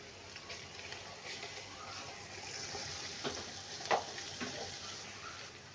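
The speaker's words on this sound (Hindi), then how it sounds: "यहाँ पे मैं प्याज को दरमियाने आंच पे फ्राई कर रही हूँ।" Onions and crushed garlic frying over medium heat for kabuli pulao, a soft steady sizzle with a few faint clinks and stirring scrapes, quiet and close.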